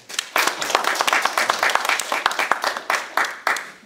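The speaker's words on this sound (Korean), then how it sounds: "또 공부하신 우리 한 분 한 분을 위해서 박수 한번 치십시다" Applause from a small group at the close of a church education class for ministry training, with many hands clapping in an uneven, fairly close burst.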